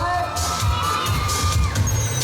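Concert crowd at a pop show in a shopping mall cheering and shouting loudly and continuously, a dense wall of voices with high whoops rising over it.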